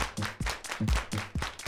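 Hands clap in a steady triple-time rhythm, several sharp claps repeating close by, with no talking over them.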